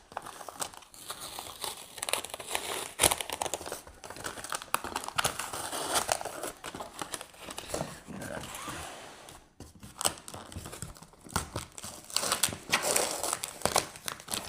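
Packing tape is torn and peeled off the cardboard box of a Bambu Lab H2C 3D printer, giving irregular crinkling, ripping and crackling bursts at close range, with a voice talking at times.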